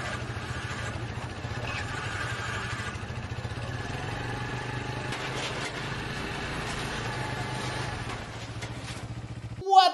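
A motorcycle engine runs at a steady, moderate drone for several seconds, then fades. A brief sharp clatter sounds at the very end.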